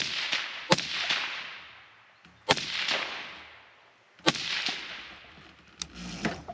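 Three sharp, fairly muted gunshots from a suppressed B&T Tiger 22 .22 rifle, a couple of seconds apart, each followed by a decaying hiss, with a lighter click near the end.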